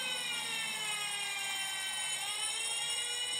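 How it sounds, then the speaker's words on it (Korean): Fire alarm bell and siren sounding together on water- and gas-based fire-suppression training equipment: a steady, loud, continuous electronic wail with a dense ringing layer, unbroken throughout and with no voices. "경종과 사이렌도 동작하고"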